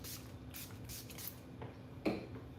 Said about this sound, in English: Let's give it a little spray.